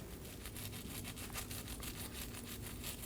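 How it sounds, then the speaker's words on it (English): A wire brush scrubs the sensor mating surface on a steering knuckle of a Nissan Maxima in quick back-and-forth strokes, a rhythmic raspy scratching, close but quiet, with no voices. "I'm going to clean the mating surface with a wire brush."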